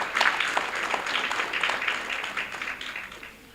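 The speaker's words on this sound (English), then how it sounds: "give yourselves a round of applause" Crowd applause at an annual meet-and-greet gathering, a dense wash of many hands clapping loudly at first and then slowly thinning and fading over a few seconds.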